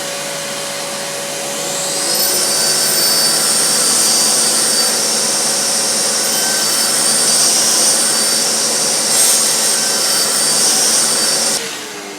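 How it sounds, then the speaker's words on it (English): Festool CSC SYS 50 table saw cutting wood to 12 millimetres with a dust extractor running, a loud steady high whine that rises as the blade spins up, holds through the cut, then cuts off sharply near the end. "Start the saw."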